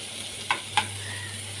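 Onions and ginger-garlic paste frying in a pan for egg curry, a steady faint sizzle broken by two quick scrapes of a spoon stirring, with a low hum underneath.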